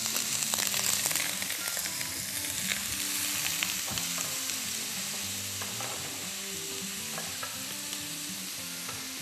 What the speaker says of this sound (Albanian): Tani do të hedhim vaj ulliri tek tenxherja, të cilën e kemi ndezur edhe këtë. Dhe do të hedhim qepën.